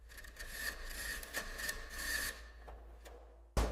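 A plastic fin comb drawn through the aluminum fins of an air conditioner produces a close, raspy scraping with rhythmic strokes and ticks, easing off near the end before a sharp bump.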